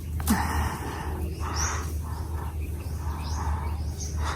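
Birds chirp and call intermittently by a river in open surroundings, with several short bright tweets over a low steady background hum.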